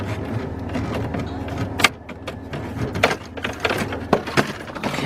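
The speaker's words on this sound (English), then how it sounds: "let's back this seat up and let's pop this cover off right here" Driver's seat sliding back and a plastic trim cover popping off inside a Ford F-150 pickup cab, with scattered close clicks, thumps and a sharp snap over a low steady background.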